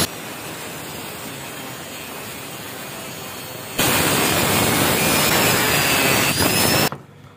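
A power tool grinds through the hardened steel end of a motorcycle engine valve, a steady loud whine that jumps in intensity midway, holds, then cuts off abruptly near the end.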